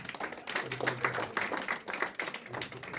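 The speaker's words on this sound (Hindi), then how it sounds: "एक जोरदार ताली बजाकर पहले हम इनको धन्यवाद दें।" An audience at a Shiv Katha religious gathering in Auckland breaks into brisk, fairly loud clapping, a dense run of overlapping claps for about three seconds in an indoor hall.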